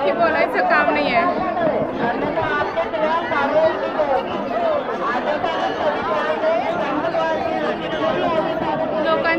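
A dense crowd of devotees at Mahakaleshwar temple in Ujjain fills the space with continuous loud overlapping voices and chanting-like babble, steady throughout.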